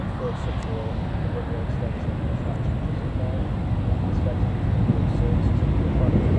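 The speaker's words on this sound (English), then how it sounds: "These jets make a lovely noise from the engines" Jet aircraft engines at Newcastle Airport give a low, steady rumble that swells slightly toward the end, with a person talking over it throughout.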